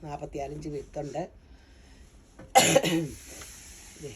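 A single harsh cough, loud and close, breaks out in a clothing shop right after someone speaks, followed by a faint throaty trailing sound.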